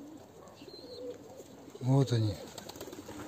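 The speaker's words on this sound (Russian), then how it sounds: "сизые, свинцовые птицы. Вот такие вот птички." Rock pigeons give a loud, close burst of throaty cooing midway through, with quieter bird sounds around it and someone speaking briefly before.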